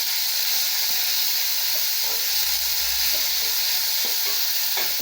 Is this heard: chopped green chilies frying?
yes